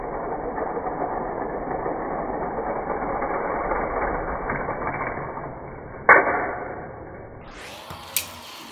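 Slot cars race on a six-lane raceway, including a '69 Corvette and a BMW M4 in adjacent lanes, with a continuous close mechanical whir and buzz of motors and gears, a sharp clack near the end and a final whine.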